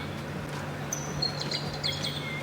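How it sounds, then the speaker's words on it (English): A caged bird in the atrium of a converted Chicago warehouse loft gives a few faint, high chirps, thin and intermittent over a steady low room hum. "that's the bird in the cage. Can you hear that?"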